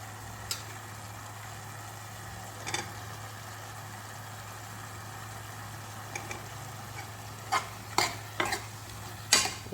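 Achari halwa goes into a pan and is stirred, giving faint scraping and occasional louder clinks of a utensil against the pan over a steady low hum, with the clinks bunching toward the end.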